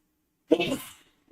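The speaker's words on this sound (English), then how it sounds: "Sneeze. Ooh, sorry about that." A single sharp sneeze bursts out close to the microphone, loud at onset and trailing off over about half a second, followed by quiet.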